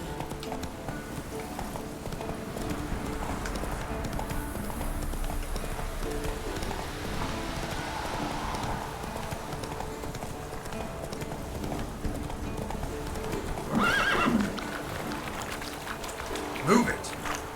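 A horse in The Witcher 3 gallops with a rapid, steady clip-clop of hooves, carrying a brief whinny near the end, while a voice talks over the game sound.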